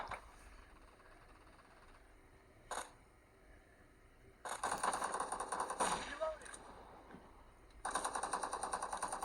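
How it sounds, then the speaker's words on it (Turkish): Gunfire in the PUBG battle royale game: short bursts of shots crack out in separate volleys, loud and close, with quieter stretches between them and no talk. "mermi atıyorum ki bilsinler ben buradayım"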